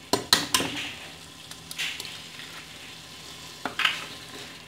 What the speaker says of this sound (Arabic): غنخليهم يطيبوا مزيان وينشف هذا البيض بطبيعه الحال